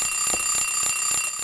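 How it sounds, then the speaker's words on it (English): Alarm clock ringing in the Silent Hill 3 video game, a loud steady electronic tone with rapid rhythmic pulses repeating about every quarter second. "Will he turn off the alarm yet?"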